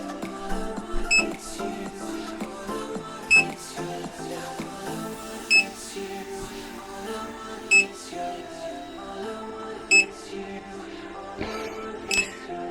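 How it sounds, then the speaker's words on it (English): A drone battery beeps in short electronic tones repeating at a steady interval of about two seconds, standing out over a faint background of music-like tones. "I'm not going to make you listen to this battery beeping anymore"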